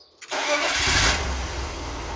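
Car engine cranking and catching after a spark plug service in a garage, then settling into a steady, loud idle close by; no one speaks.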